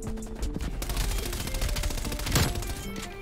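An MP5 submachine gun fires in Call of Duty Cold War: a rapid burst of close, loud shots at the start, then another sharp volley a couple of seconds later over low background rumble.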